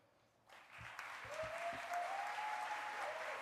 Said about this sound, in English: big applause to Joe Pichelmeier and Bernhard Tellenbach